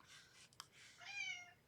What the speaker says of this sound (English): if you hear some meowing in the background